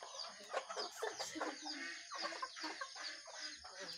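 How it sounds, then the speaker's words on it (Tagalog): Pet chickens on a farm cluck in close, busy overlapping bursts, a steady chatter of short calls throughout. "Yung ating mga alagang manok."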